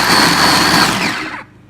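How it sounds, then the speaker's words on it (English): A spice blender bought from an Arabic shop grinds peeled tomatoes into puree, a loud steady motor whir with chopping texture that runs continuously, then cuts off abruptly near the end. "I'm going to put it off into the blender"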